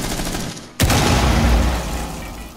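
Rapid gunfire in Rainbow Six Siege bursts in suddenly after a quiet moment and keeps up as a loud, dense volley of shots with booming low end, fading slightly toward the end.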